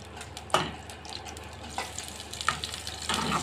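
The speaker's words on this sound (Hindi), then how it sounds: "घी डल गया है, अभी इसकी फ्राइंग शुरू" Taro root (arbi) frying in ghee, a continuous close sizzle broken by a few louder spattering bursts and stirring scrapes, no voices.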